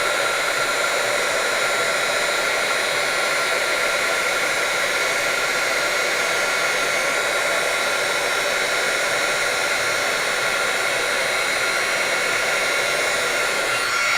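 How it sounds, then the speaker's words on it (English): A heat gun runs continuously to emboss a Christmas card, giving a loud, steady blowing whir with no breaks or talk. "I'm going to grab my heat gun and go ahead and emboss that."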